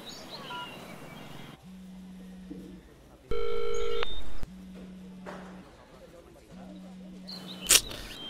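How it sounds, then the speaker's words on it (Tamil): A phone rings with an incoming call in a Tamil film scene, its low tone repeating in three spaced bursts, with a louder electronic beep in between and a sharp high chirp near the end. "டேய் பிரியங்கா ஃபோன் பண்ணி வெளில வர சொல்றா."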